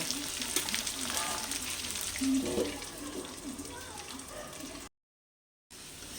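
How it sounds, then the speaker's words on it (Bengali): Potatoes fry in oil under a lid for a rohu fish curry, giving a muffled, steady sizzle with a few sharper spits, then the sound cuts off briefly before resuming. "আলুগুলোকে এবার আমি ঢাকা দিয়ে দিয়েই ভেজে নেব"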